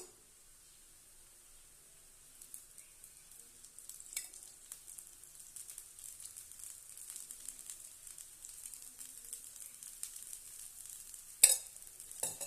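Oil poured into a hot pan while making a kavuni black rice dosa, a thin, faint, hissing sizzle that builds after a few seconds, with a sharp crackle near the end.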